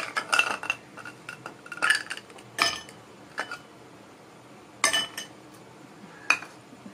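Ice cubes clink and knock into glasses of panakam in a few sharp, separate bursts, close and bright, with quiet pauses between drops.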